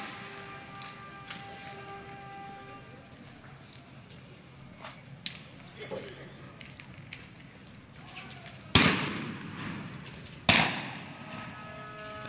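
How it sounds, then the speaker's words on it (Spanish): Two sharp, loud pops of police firing rubber bullets ring out a couple of seconds apart over a faint background murmur, with a few smaller thuds earlier. "los disparos de goma."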